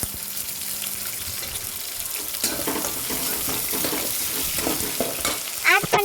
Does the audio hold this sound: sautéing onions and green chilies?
yes